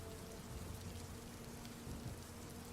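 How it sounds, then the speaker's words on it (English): Steady, dense rainfall hisses without pause as background ambience for a tabletop role-playing session, an even wash of drops with a faint low rumble underneath and no voices. "The incessant rain."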